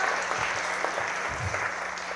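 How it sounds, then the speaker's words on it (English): Steady applause from an audience at a city's annual State of the City address, honoring a longtime city council member; dense, continuous clapping that holds at an even level throughout. "How about an applause for JR?"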